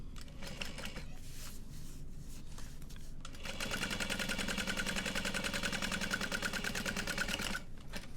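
A sewing machine top stitching a bowler bag: quiet handling and fabric rustles first, then a steady, fast mechanical whir with rapid needle ticking for about four seconds before it stops.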